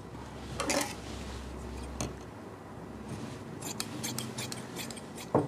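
Scissors snip through cloth while cutting out a gents kurta down the center, a few crisp cuts early on, then a quicker run of short snips near the end, close and fairly quiet with no talk.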